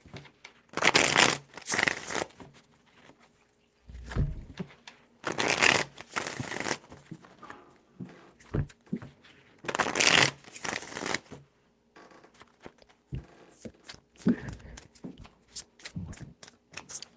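Tarot cards are shuffled in three separate bursts, each a crisp riffling flutter lasting a second or two, close and distinct, with quieter handling rustles between them and no talk.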